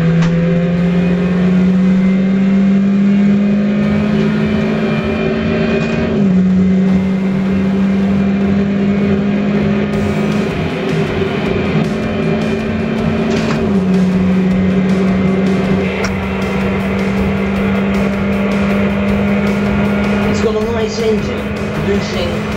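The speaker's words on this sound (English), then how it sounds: "And we start with the, I think, sensational Mini Cooper S." Mini Cooper S hatchback with a 167 bhp engine running steadily while driving, a constant engine drone with gear-change shifts in pitch, heard close throughout under a presenter's talking.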